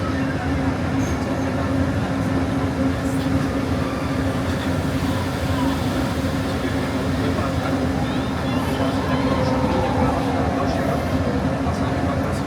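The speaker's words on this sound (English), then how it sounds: "Please remain seated until the monorail comes to a complete stop." Disneyland monorail rolling toward the Tomorrowland station, a steady loud rumble and hum of the train running beneath a recorded announcement voice throughout.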